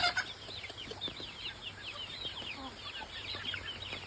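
Chickens cluck repeatedly in a steady stream of short calls, with a rooster-like call mixed in, against a continuous background hum; no speech stands out.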